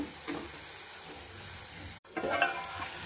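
Vegetables with salt, dried red chilli and coriander-cumin powder cooking in a pan over a low gas flame, a soft steady sizzle with faint stirring scrapes, briefly cut off then resuming slightly louder.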